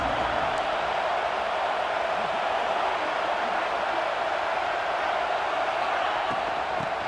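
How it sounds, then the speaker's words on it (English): Steady stadium crowd roar in the NCAA 26 college football game, Texas vs Ohio State, a dense continuous wash of distant cheering with no breaks throughout. "Listen to the crowd energy here in the early going."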